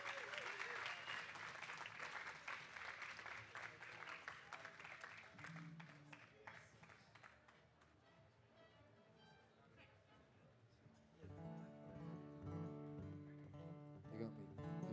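Live audience applauds a singer at a festival speakeasy stage, a dense sustained clapping that swells loud, eases off in the middle, then rises again near the end.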